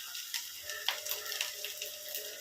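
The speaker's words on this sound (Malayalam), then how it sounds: "അതെല്ലാം കൂടെ നമുക്ക് വഴറ്റിയെടുക്കാം" Chopped ginger and green chillies sauté in a pan, giving a steady, soft sizzle with a few light ticks of stirring throughout, close and fairly quiet.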